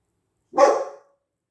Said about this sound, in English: It's okay, boy. That's my dog, Rolo.